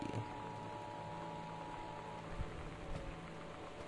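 Steady, soft rain hisses without a break in the video game Gone Home, a faint, even wash of drops with a couple of small knocks and no voices.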